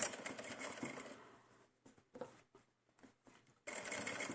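A sewing machine stitches fabric for a Blythe doll dress, running in a steady whirring burst, pausing into faint short clicks and stops, then starting up again, close and fairly quiet.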